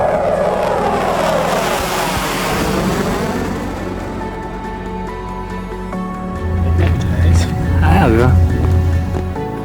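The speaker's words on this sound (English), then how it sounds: "Some of the station's MiG-29s start landing." MiG-29 fighter jet engines roar steadily at Leh air base in Ladakh, with a rising whine and a deep rumble as the jets come in to land nearby, loud throughout.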